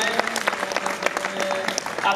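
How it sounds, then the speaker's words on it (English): A live audience claps for a NinjaSquad performance at a Skylark Sports show, steady dense applause running for a couple of seconds with voices mixed in. "Well done, guys, for a round of applause"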